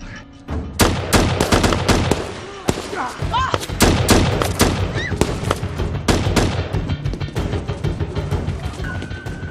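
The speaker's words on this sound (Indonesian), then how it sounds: "mereka dikejutkan dengan sambutan para pemberontak yang melakukan baku tembak dengan Hammond" A film gunfight between rebels and an agent erupts in dense bursts of loud gunfire, rapid shots and automatic volleys crackling continuously, with brief shouted voices mixed in.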